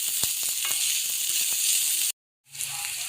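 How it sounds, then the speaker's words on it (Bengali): Onion, garlic, ginger and chilli frying in a pan give a steady, close, bright sizzle with small crackles, cutting out briefly before resuming more softly. "ভালো করে লাল লাল করে ভেজে নিচ্ছি, যাতে পেঁয়াজের আর রসুনের আর আদার গন্ধটা না থাকে"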